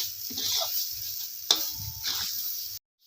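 Besan batter for pithla being stirred in a pan, with soft scraping and gentle sizzling in uneven strokes, close and fairly quiet, broken by one sharp clink of the utensil midway.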